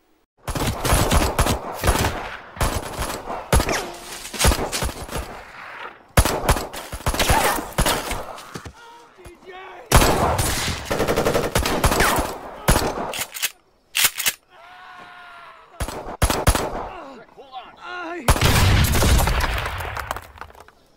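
Bursts of gunfire from an action film, rapid automatic volleys and sharp single shots in repeated loud clusters separated by brief pauses and quieter ambient stretches, with no speech.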